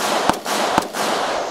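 Two sharp 9mm gunshots from a Taurus 709 Slim pistol crack about half a second apart outdoors, each a short loud bang over steady background noise.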